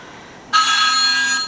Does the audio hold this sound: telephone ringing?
yes